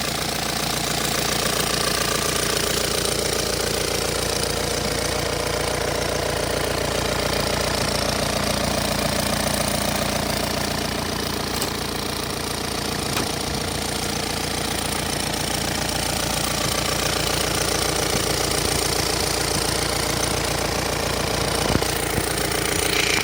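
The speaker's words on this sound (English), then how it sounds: "Engine sounds good." A 2006 Hyundai Santa Fe diesel engine idles steadily and loudly with a constant rumble and rhythmic ticking, continuing unchanged throughout with no voices.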